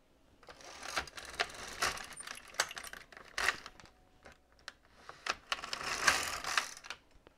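An LK150 knitting machine carriage is pushed across for two rows, producing rapid clicking and clattering of needles in two bursts with a short pause between, close and clear with no talking.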